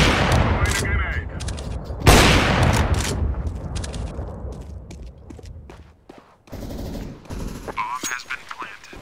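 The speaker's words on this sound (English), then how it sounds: "Throwing a grenade." Counter-Strike: Global Offensive gunfire and a thrown grenade detonating: bursts of rapid shots, a sharp loud blast at about two seconds, then scattered shots and clatter fading and returning.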